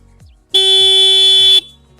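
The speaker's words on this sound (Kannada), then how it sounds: "ಹಾರ್ನ್ ಕೇಳೋಣ ಬನ್ನಿ ಗಾಡಿ ಹಾರ್ನ್ ಹೆಂಗಿದೆ ಅಂತ" A BMW CE02 electric scooter sounds its horn once: a single loud, steady electronic tone held for about a second, close to the microphone, with quiet rhythmic background noise before and after.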